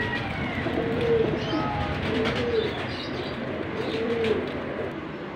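Teddy pigeons coo softly in repeated low phrases close by, over a steady background hum of other birds and faint ambient noise.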